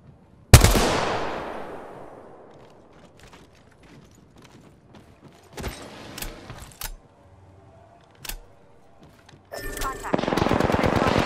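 Gunfire in the battle-royale video game Apex Legends: a loud opening shot, then scattered single shots and short clusters, ending in a rapid automatic burst, with game sound effects between.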